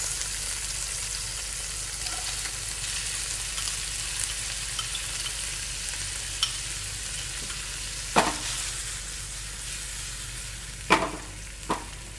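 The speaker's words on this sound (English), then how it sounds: "I'm heating up the ginger garlic paste and I'm adding all the vegetables to this." Vegetables fry in hot ginger garlic paste in a pan, a steady close sizzle that runs throughout, with a few sharp clacks of a spoon or spatula near the end and no voices.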